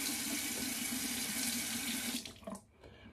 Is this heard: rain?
no